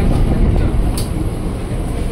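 A KRL commuter train pulls into Depok station, its loud, steady rumble filling the whole stretch without a break.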